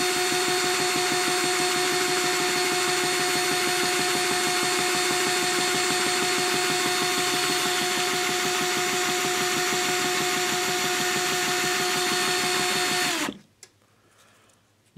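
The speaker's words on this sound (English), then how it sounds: "I've got my controller hooked up to a drill." An electric drill spins a small brushless DC motor through a controller, a loud steady mechanical whine with a sustained tone and rapid pulsing that runs unbroken for about thirteen seconds, then cuts off abruptly into near silence.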